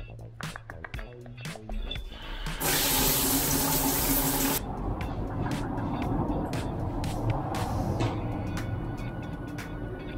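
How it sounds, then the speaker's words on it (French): Shower water runs in an apartment in Paris, a steady rushing spray that surges loudly for a couple of seconds then settles into a continuous hiss, following some scattered clicks and knocks at the start. "Je prends toujours une douche en premier."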